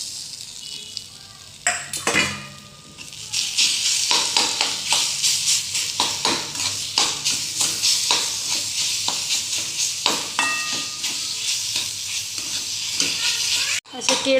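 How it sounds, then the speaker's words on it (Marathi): Banana pieces roast in ghee in a pan for Satyanarayan puja prasad, a bright sizzle punctuated by rapid rhythmic scraping and stirring strokes of a spoon against the pan, close and loud. "तुपामध्ये भाजले जाईल।"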